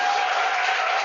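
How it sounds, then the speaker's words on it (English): Audience applause rings out for about a second, a dense, even wash of clapping, fairly loud, with no other sounds over it. "a huge round of applause"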